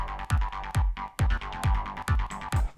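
An acid variation of a rolling progressive techno bass line made on a Serum synth, with punchy, evenly spaced notes in a driving rhythm, each with a deep thump and a bright squelchy top, playing alone.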